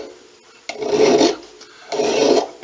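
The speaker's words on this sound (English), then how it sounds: "Always be careful with your files because you're filing especially on a round part." A single cut file rasps against a rounded part of a handmade leather craft tool in two long, even strokes with a short pause between them, close up and fairly loud, with no voices.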